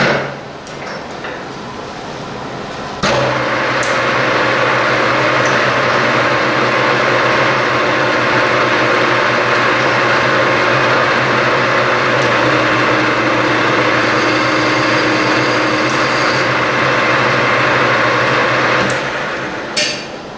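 A metal lathe cuts 24-threads-per-inch threads on a tube at 200 RPM. A loud, steady mechanical whir and rumble starts after a few seconds and runs on continuously, with no talking.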